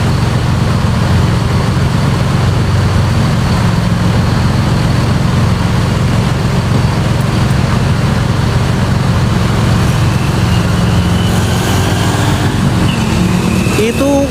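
Dense, gridlocked holiday-exodus traffic of cars and trucks idles and creeps along a road, a steady loud low engine rumble throughout with a voice talking over it.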